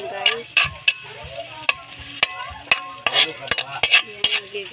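Sautéing in a pan with repeated sharp scraping and clacking stirs over a soft sizzle, close and irregular, with no voices.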